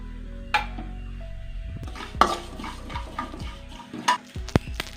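Whole spices being stirred and dry-fried in a pan for a paneer biryani masala, with a few sharp scrapes and clinks of a spoon against metal over a faint sizzle, close and fairly quiet.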